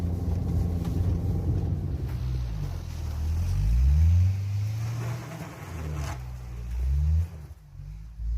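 A lifted Honda Element on 31-inch tires crawls off-road in the mountains in first and second gear, its engine droning low and steadily with rising and falling revs as it works over the terrain.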